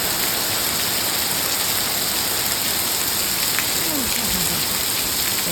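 Steady heavy rain pours down in a dense, unbroken hiss, close and loud, with no voices over it.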